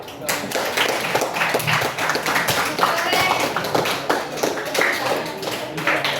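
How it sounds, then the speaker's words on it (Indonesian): Classroom students clap their hands together in a steady, dense patter that runs the whole time, with some voices mixed in. "Tepuk tangan dulu lah."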